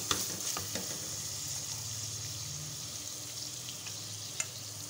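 Masala being stirred into softened tomatoes in a frying pan, a steady low sizzle and frying hiss, with occasional soft scrapes and clinks of the spoon, close and continuous, no voices.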